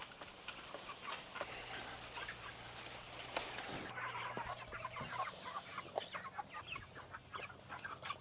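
Meat chickens on a small farm clucking in a busy, faint flock chatter with scattered clicks and knocks, steady throughout and without talking.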